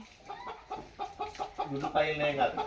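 Hen clucking in short repeated bursts close by, growing louder and more agitated toward the end, with a person's voice faintly mixed in.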